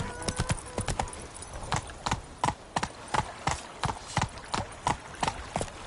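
Horse hooves clip-clopping at a steady gallop in The Witcher 3, loud, close and rhythmic, with roughly a dozen evenly spaced hoofbeats and a faint background bed beneath.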